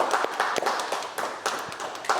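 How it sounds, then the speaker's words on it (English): Audience applause at a Start Up Minot event, steady clapping from a crowd throughout, moderately close and fairly quiet, with no talking over it. "Let's give a round of applause to Heidi."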